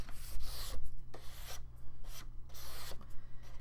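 A greeting card's edges are rubbed with a small sanding block or nail file, giving close, repeated rasping strokes in an uneven rhythm, with a low hum underneath and no talking.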